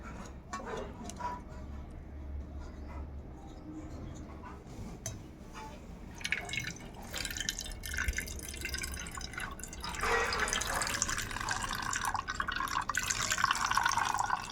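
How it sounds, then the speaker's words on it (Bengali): Water dripping and trickling as grated bottle gourd is squeezed and drained through a white cloth in a kitchen, a steady soft patter that swells into a fuller, louder run of liquid toward the end. "পুরো জলটাকে কিন্তু ভালো করে ঝরিয়ে নেব"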